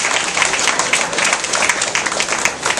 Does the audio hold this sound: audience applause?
yes